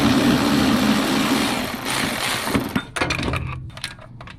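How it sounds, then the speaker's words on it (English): A ratcheting wrench works on a bolt on a 2002-2006 MINI Cooper S R53 engine: a steady whirring buzz gives way to quick, close metallic clicks and clatter. "I'm putting my ratcheting wrench on this"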